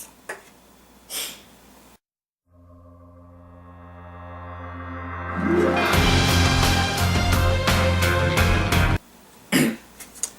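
A few short nasal sniffs from a person with a cold bracket a bright synthesized musical jingle that swells and then cuts off, with another quick sniff near the end.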